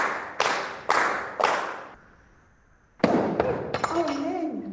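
Bursts of circus gala audience applause start and stop abruptly, then a short pause before louder clapping returns mixed with voices.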